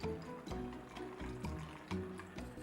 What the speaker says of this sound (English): Add around half a cup of water.